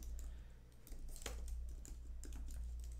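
Typing on a computer keyboard, a slow, uneven run of keystrokes at close range with brief pauses between bursts over a low steady hum.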